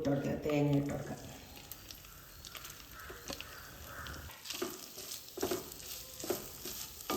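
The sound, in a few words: grated coconut frying and being stirred in a hot pan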